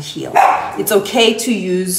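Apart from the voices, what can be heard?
dog barking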